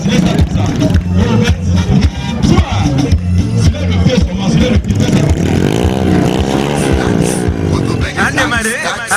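A motorcycle engine starts and revs loudly at a motocross event, its pitch rising and falling, over noisy crowd chatter and voices.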